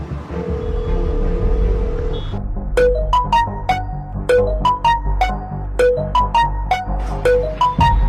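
An incoming call sets a phone ringing with a repeating melodic ringtone: bright, evenly spaced tones play over a low background hum after a brief steady beep.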